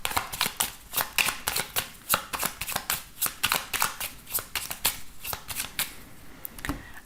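A 32-card deck being shuffled by hand, a fast, steady run of crisp riffling card slaps lasting several seconds, close and loud with no talk over it.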